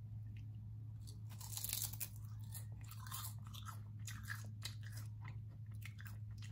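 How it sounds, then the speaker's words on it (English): Close-up crunching and chewing of a crisp seaweed snack, with repeated bites over a low steady hum. "It's really crunchy too."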